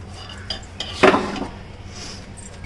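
Mutton biryani being stirred in a large pot over a wood-fire stove, with a few scraping clinks of a metal spoon against the pot and one louder burst of stirring, close by.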